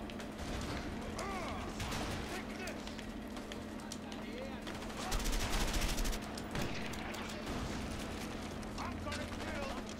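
Gunfire and grenade launcher shots in the video game A Way Out, dense bursts and mechanical clatter mixed into a busy, loud game soundtrack, swelling in the middle.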